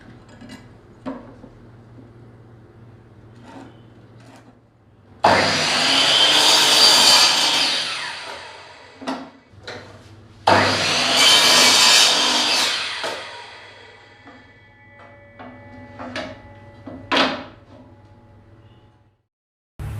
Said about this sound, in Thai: ซึ่งเราใช้ เลื่อยแบนซอ